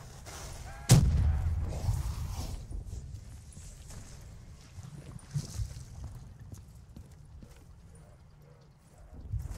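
Grenade explosions in Call of Duty: Black Ops 3 Zombies, with a sharp heavy blast early on followed by rumbling, scattered thuds and lower game noise for several seconds.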